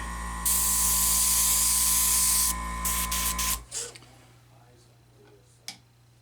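An airbrush spraying Vallejo paint gives a loud, steady hiss for a few seconds, then short sputtering bursts before it stops, leaving a low mechanical hum and a single click.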